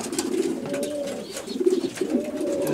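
Pigeons at a racing loft coo in soft, repeated rolling phrases, close and clear, with the calls overlapping in a steady rhythm and no talking.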